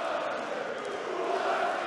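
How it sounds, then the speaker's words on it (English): A darts crowd at a PDC European Tour event in Riesa, Germany, keeps up a steady, dense roar of chanting and cheering, a sustained wash of many voices without pauses. "And the crowd are getting stuck in."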